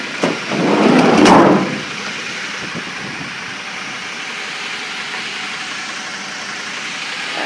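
The Mercedes diesel engine of a 2005 Dodge Sprinter 3500 van catches after a brief cranking burst, then settles into a steady, even idle that hums on at a constant level close by.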